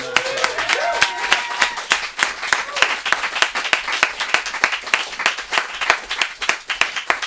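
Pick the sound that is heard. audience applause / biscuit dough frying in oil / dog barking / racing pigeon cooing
audience applause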